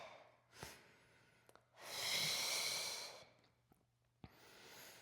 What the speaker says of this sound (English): Inhale, ribs expand.